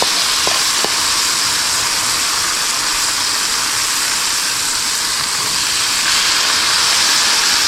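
Lemon and lime juice poured into hot butter sizzles in a loud, steady hiss that runs unbroken for the whole stretch, with no talking over it.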